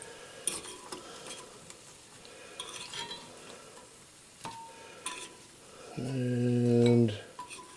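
Dandelion flowers deep frying in hot oil give a soft, steady sizzle, broken by light fork clinks as they are lifted out, and a brief low droning tone near the end.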